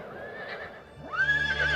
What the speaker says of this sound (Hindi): ये काला घोड़ा किसका है?